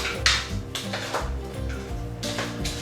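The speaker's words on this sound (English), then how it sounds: "So I'll stir up the vegetables and put them in." Vegetables being stirred and tipped into a casserole dish, with several close clinks and knocks of utensils against cookware over a low background hum.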